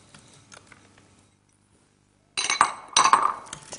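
Mixing cake batter of sunflower oil and brown sugar in a bowl, heard as a burst of clinking and scraping of utensil against the bowl after a quiet pause, close and fairly loud.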